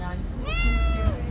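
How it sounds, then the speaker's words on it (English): A kitten near a shop gives one clear, rising-then-falling meow at close range over light background noise. "Lovely two kittens."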